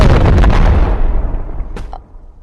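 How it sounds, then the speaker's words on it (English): A loud in-game explosion as RPG ammo is struck with a stick, a heavy deep boom that rumbles and fades over about two seconds, with a small pop near the end. "if you take RPG ammo, you can hit it with the stick and it will explode"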